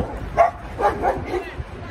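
Dogs bark and yip in a few quick, moderately close bursts spread across a short stretch, with a faint hum of voices in the background.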